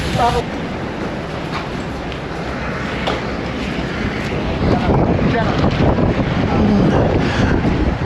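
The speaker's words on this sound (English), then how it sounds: "Oh, it's a bit breezy out here." Breezy wind blows outdoors at an airport as passengers board an aircraft. It makes a steady, rumbling buffet against the microphone for the whole stretch.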